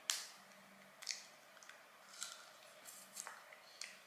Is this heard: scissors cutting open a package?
yes